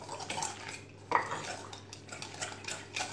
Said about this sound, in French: on va diluer la levure dans du lait